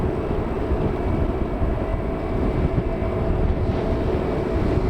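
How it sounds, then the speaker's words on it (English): A Jet2 Airbus A321neo at Manchester Airport produces a steady, rumbling engine roar, sustained and moderately loud throughout with no break. "is the Jet2 Airbus A321neo going to Paphos"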